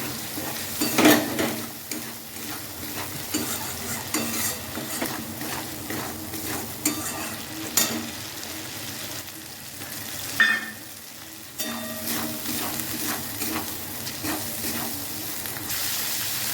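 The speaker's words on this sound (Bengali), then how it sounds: "দিয়ে দেবো লবণ, দিয়ে দেবো হলুদ গুঁড়ো, ভালো করে মশলাগুলো কষিয়ে নেব।" Spices with salt and turmeric sizzle steadily in hot oil for Bengali vegetarian aloo dum, broken by irregular stirring scrapes and a few light clinks of a spoon on the pan, close and continuous with no talk.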